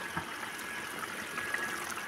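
Water is poured over pieces of farsha fish to rinse them for a curry, making a continuous soft splashing trickle at close range that stays even, with a few small louder splashes and no talk.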